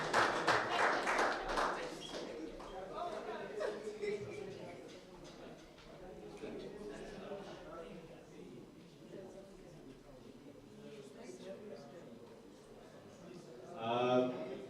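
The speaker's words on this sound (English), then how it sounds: "So please, a big round of applause to them for providing us with this dinner." Audience applause at a prize-giving dinner closing the South Africa vs New Zealand Blind Series, a dense burst of clapping for about two seconds that quickly gives way to someone speaking over a quieter room.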